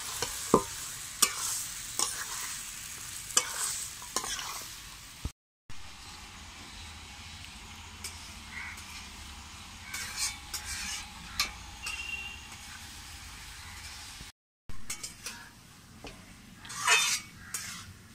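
Chicken masala for a chicken dak bungalow curry being stirred and fried over low heat in a pan, with a soft continuous sizzle and repeated scraping and clinking of the spatula against the pot, close by and with no talking.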